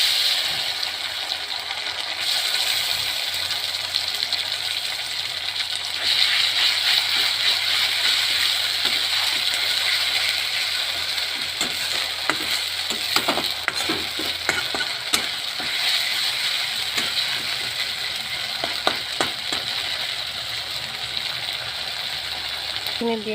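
Onions and spices frying in a pan for a fish curry, a continuous close sizzle with scattered clinks and scrapes of stirring, loud and steady throughout, with no talk.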